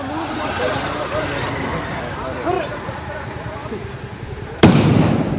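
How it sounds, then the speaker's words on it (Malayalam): A single sharp, loud firecracker bang bursts out near the end to drive away wild elephants, following several seconds of background voices and outdoor noise. "പടക്കം പൊട്ടിച്ചു"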